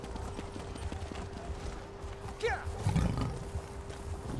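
Pony hooves clip-clop in The Elder Scrolls Online, a soft steady trot heard faintly under a low drone, then a brief louder rustle and thump partway through, with someone talking over it.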